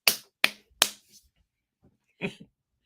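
Hand claps, three sharp ones in quick succession, near and fairly loud, followed after a pause by a short softer clap-like burst, no talking over them.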